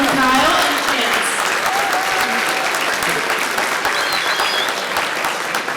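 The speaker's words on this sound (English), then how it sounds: "Let's give one more round of applause to Sam and Kyle and Chance." A crowd at a reunion celebration breaks into full, dense applause, loud and continuous throughout, with faint cheers mixed in.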